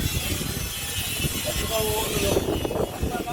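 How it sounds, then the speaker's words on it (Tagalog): Strong wind roars and buffets the microphone continuously at a house construction site, a loud broadband rush with faint mechanical sounds mixed in. "Lakas ng hangin"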